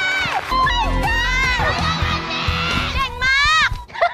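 A loud crowd cheers, whoops and shrieks at a talent-show finals stage performance, high excited voices rising and falling in near-continuous waves, briefly dipping near the end before surging again.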